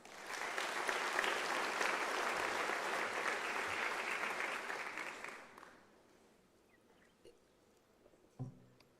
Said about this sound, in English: Can I request you to clap for yourselves?